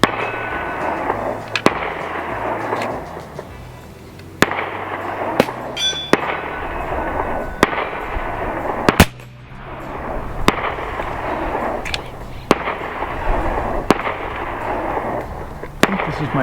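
A series of sharp, loud cracks from powerful .50 caliber air rifles, spaced a second or two apart across the stretch, each a short impulsive report, with a steady background hum between them.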